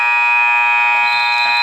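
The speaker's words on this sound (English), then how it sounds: "Buzzer sounds." A loud, sustained electronic buzzer blares without a break at a girls' high school basketball game at Spartan Bowl, marking the end of a quarter.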